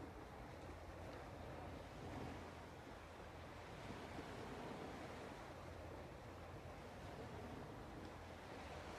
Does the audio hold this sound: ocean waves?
yes